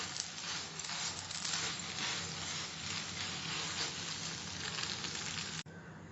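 Veg hakka noodles fry in a pan during stir-frying, giving a steady, moderately loud sizzle and hiss with faint stirring clatter throughout, ending in a brief knock; no talking.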